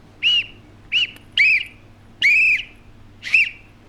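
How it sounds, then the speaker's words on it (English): A whistle gives five short, shrill, tonal blasts at uneven intervals, with one longer blast in the middle. The blasts are loud and close, with no talking between them. "What's wrong with your whistle there, Alex?"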